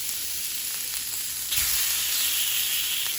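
Food sizzling and frying in a hot pan, a steady close hiss that swells louder partway through, with no voices.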